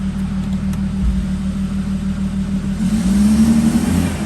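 Audi A6 C5 with a 2.5 V6, its gears failing to engage, revving up close and loud, the engine note rising steadily toward the end after a low idle.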